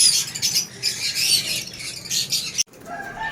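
Harsh, shrill green-cheeked conure squawks and chatter repeat rapidly and loudly, close by, with no talking.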